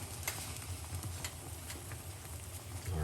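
Lemon tea boils inside a locked pressure cooker, giving a steady close hiss and bubbling with faint scattered ticks and pops.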